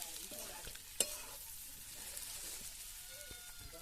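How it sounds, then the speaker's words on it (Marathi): Masala-stuffed brinjals are sautéed in oil with leftover spice paste, giving a quiet, steady sizzle with a sharp utensil clink early on and light scraping as they are turned. "आणि आता या तेलामध्ये चांगली वांगी अशी परतवून घ्यायची"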